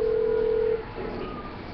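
Phone ringing in the video game GTA 5, a steady electronic ring tone lasting under a second before cutting off, followed by low background game noise.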